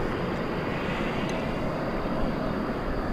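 A Boeing 737-800 airliner at DFW Airport at night gives off a steady, loud, broadband engine roar that stays even from start to finish, no talking.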